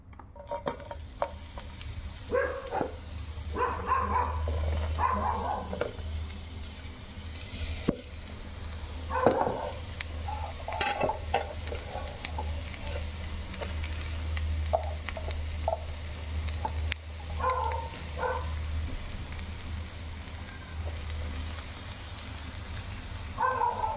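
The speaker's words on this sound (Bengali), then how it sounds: "পেঁয়াজগুলোকে দিয়ে এবার আস্তে আস্তে আমরা পেঁয়াজগুলো ভেজে নেব।" Onions fry slowly in hot oil for pyaaz posto, a soft steady sizzle running throughout with intermittent utensil stirring and scraping, close but fairly quiet.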